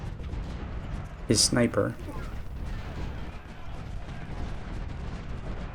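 Artillery fire from the Civil War strategy game Ultimate General: Civil War, heard as one brief, loud booming burst early on, under steady talk from someone narrating the battle.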